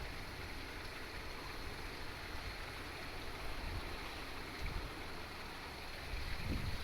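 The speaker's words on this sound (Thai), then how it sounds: "ลมแรงมากเลยค่ะวันนี้" Strong wind blowing outdoors around a tree where a bird is nesting, a steady, loud broadband roar that gusts and swells near the end, with no talking.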